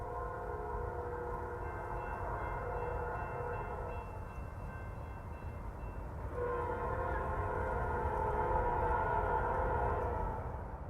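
The P5 horn on GE AC44C6M locomotive 4000 blares at the head of a freight train, two long sustained chord blasts with a short gap between, loud over a low rumble of the moving train.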